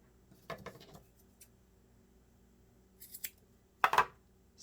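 Scissors snip through the thread loops of a handmade tassel, a few sharp, quiet metallic cuts heard up close and spaced apart, in an otherwise quiet room.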